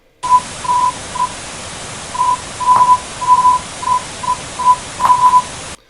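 Short and long beeping tones at a steady single pitch, like Morse code, pulse in uneven groups of dots and dashes over a constant hiss of static in an alternate-reality-game sound puzzle.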